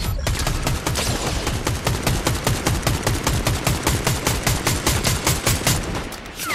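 Rapid automatic gunfire in the shooter game Fortnite rattles off in a fast, even stream of loud shots that keeps going without pause.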